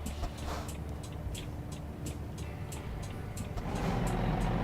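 Volvo VNL truck engine in American Truck Simulator, a steady low rumble running throughout, swelling louder toward the end with faint ticking above it.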